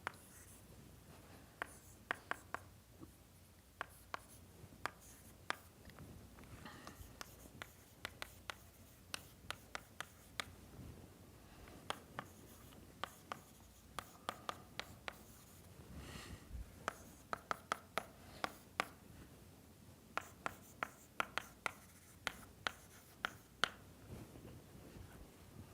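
Chalk taps and scrapes on a board during a university lecture on numerical methods, coming in quick irregular bursts of sharp strokes with pauses between, faint against quiet room tone.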